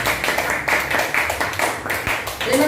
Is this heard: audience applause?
yes